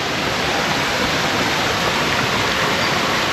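Thi Lo Su, the largest waterfall in Thailand, sends out a loud, steady, close roar of rushing water that stays constant throughout, with no voices.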